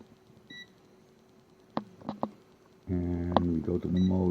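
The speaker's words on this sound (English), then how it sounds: "And we go to the mode of the beeping." A digital multimeter in continuity mode, used while testing parts during an Akai AM-A-102 amplifier repair, gives a steady sustained tone near the end, loud and close, after a few brief clicks of probes touching.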